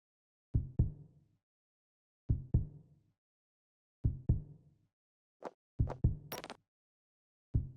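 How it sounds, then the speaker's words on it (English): Heartbeat-like thumps from the Aliens: Colonial Marines video game, heard as paired low double beats repeating roughly every 1.7 seconds, clear and alone, followed by a few short whooshing and clicking effects. "Why does it sound like a heartbeat now?"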